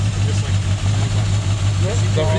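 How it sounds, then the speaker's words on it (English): A 1981 Ford XD's 250 engine, running on stale fuel, drones in a low, steady idle continuously throughout, with faint voices murmuring underneath. "You can't even hear the engine running properly"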